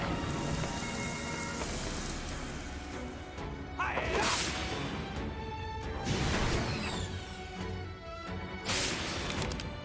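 A rain attack effect from the video game Lost Odyssey: a steady wash of falling rain with repeated rushing, swooshing bursts and rumbles, loud and continuous, with no one talking over it.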